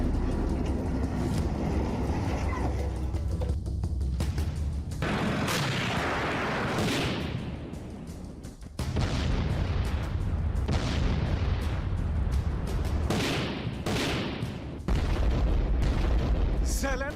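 Explosions and artillery fire in Russia–Ukraine war footage, rendered as a continuous loud barrage of booms and blasts with a voice talking over them.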